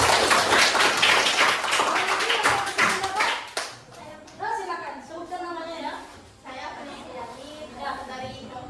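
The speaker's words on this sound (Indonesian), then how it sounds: "Oke, tepuk tangan buat kita." A group of people applauding together, with brisk dense hand clapping for about three seconds that then fades out as a person starts speaking.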